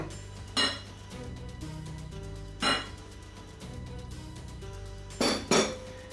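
Flour and bitter cocoa powder being mixed into cake batter, with a few sharp clinks of utensil against bowl spaced out over a quiet background.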